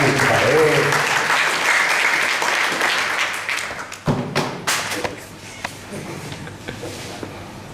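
A church audience applauds to welcome a pastor with dense, loud clapping that thins into scattered claps and thumps, then fades under a voice.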